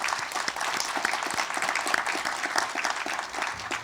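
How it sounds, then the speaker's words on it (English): A conference audience at a practical politics event gives brisk, dense applause, many hands clapping at once in a continuous, fairly loud wash that holds steady throughout. "So a quick hand of applause for them."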